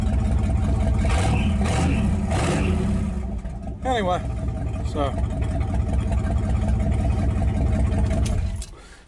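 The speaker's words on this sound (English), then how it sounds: "you can hear the exhaust on it now" A 1929 roadster pickup idles loud and close through its exhaust, a deep steady rumble with a brief blip of revs midway before it cuts off, someone talking briefly at the start.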